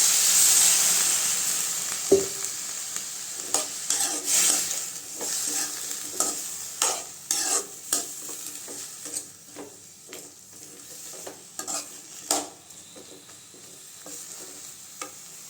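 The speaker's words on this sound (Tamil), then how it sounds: "அடுப்பு சிம்மில் வச்சுட்டு இப்படி அடிக்கடி கிண்டி விட்டுக்கலாங்க." Eggplant poriyal with onion, salt and a little water simmers on a low flame while a spoon repeatedly scrapes and taps the pan over a quiet sizzle, in irregular strokes throughout.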